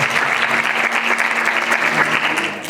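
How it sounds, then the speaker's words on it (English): Steady audience applause at a National Honor Society ceremony fills the room, a dense, even wash of many hands clapping at constant loudness that tapers slightly at the end. "Let's give her a round of applause."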